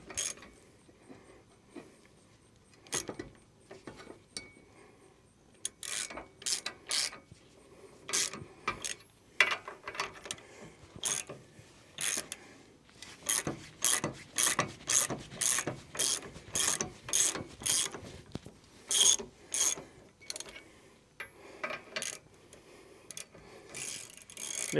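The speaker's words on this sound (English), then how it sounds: "it'll slowly push the U-joint out the other side" A U-joint is pressed out of a Willys differential yoke, giving rapid ratcheting clicks in uneven bursts. The clicks run close and moderately loud, grow denser and more regular toward the end, and come without speech.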